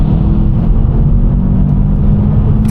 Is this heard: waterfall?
no